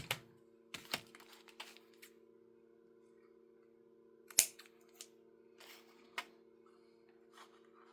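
Scissors cut a paper file folder in sparse, crisp snips and clicks, one louder than the rest midway, against a quiet background with a faint steady hum.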